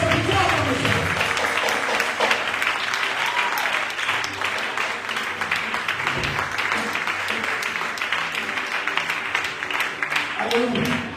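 A church congregation applauds, a dense and continuous wash of clapping from many hands that stays loud from start to finish.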